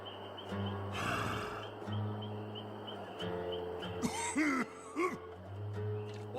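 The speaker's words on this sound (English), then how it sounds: "Constantly coughing." Repeated throaty coughs and wheezy gasps from a Dead by Daylight killer trailer, close and fairly quiet, coming in short bursts over a low droning game soundtrack.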